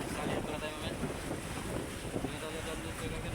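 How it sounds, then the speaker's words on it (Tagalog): Strong wind buffeting a fishing boat at sea on the Pacific, a loud continuous roar with heavy microphone rumble and surf. "Yun ang problema, malakas ang hangin."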